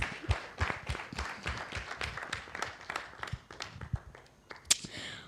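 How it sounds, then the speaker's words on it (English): An audience applauds at an AI-in-mobility summit with a sustained, fairly faint patter of many hands over five seconds, crowd murmur mixed in. "A warm round of applause,"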